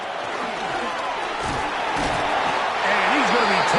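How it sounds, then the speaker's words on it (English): A football stadium crowd roars and cheers on third down, a loud, dense, sustained wash of noise from a large crowd that swells toward the end, with a commentator talking over it. "This crowd into it now as we get to third down."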